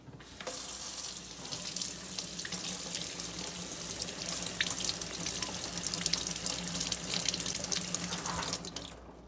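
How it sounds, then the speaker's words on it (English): Steady running tap water pours into a sink as a coin is rinsed off after being rubbed with baking soda, a continuous close wash with faint splashes and no talking. "And then you go to the sink and you wash it off."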